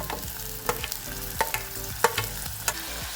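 Chopped tomato sizzles and fries in a pan for an onion-tomato curry, with a steady crackle broken by several sharp stirring clacks of a spoon against the pan, close and moderately loud, no talking.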